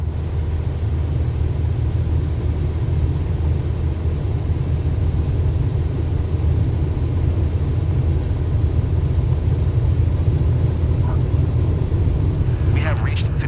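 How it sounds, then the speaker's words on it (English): A light aircraft engine held at full takeoff power in Flight Simulator 2024, a loud constant droning roar running unbroken from start to end, with a brief faint chirp near the end. "Maintain full power for takeoff, please."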